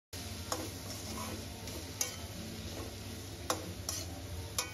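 Potatoes and onion stirred with chili powder and turmeric in a pan for a chickpea curry, a continuous low sizzle punctuated by several sharp scraping clicks of the utensil at irregular intervals.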